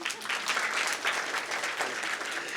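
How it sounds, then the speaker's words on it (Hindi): Audience applause at a Buddhist vihara gathering in Dongargarh, Chhattisgarh, a short, fairly faint patter of clapping that holds steady throughout. "अरे सही दिया बोला ना मैंने, तालियां तो बजाओ।"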